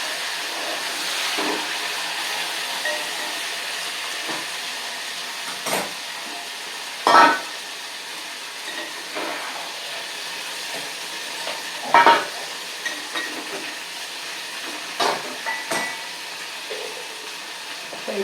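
Pumpkin pieces frying in oil in a pan for Parangikai vaththa kuzhambu, a steady close sizzle broken by several louder scraping stirs at irregular intervals, with no talk.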